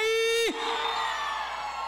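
Crowd at a Bonde do Brasil show during the 53rd Festa dos Romeiros in Solidão, Pernambuco, erupts into loud, sustained cheering and screaming right after a brief held tone, continuing steadily to the end.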